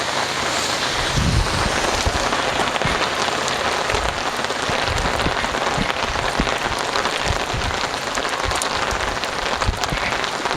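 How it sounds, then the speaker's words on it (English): Heavy rain pours steadily in Oslo, Norway, a dense, constant wash of drops hitting surfaces close by, with light wind noise on the microphone and no voices. "Making a video about rain."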